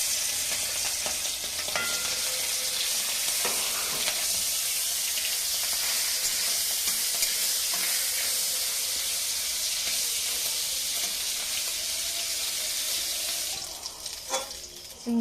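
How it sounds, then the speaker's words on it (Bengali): Shrimp fry in hot oil in a wok, giving a loud, steady, crackling sizzle that runs unbroken with no voices, then briefly dips near the end. "মাছগুলো ভেজে নেবো"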